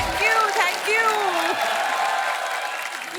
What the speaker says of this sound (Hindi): आप सबकी जोरदार तालियों के बीच प्लीज वेलकम मिस्टर विशाल जेठवा और फिल्म सलाम वेंकी की डायरेक्टर रेवती जी